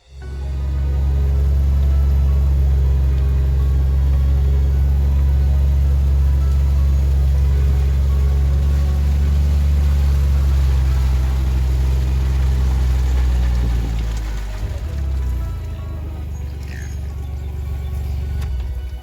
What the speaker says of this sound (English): they recognize the sound of the engine of the gator already